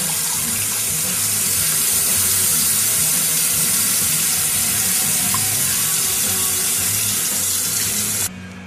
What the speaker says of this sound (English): I will fill each container up with this well water.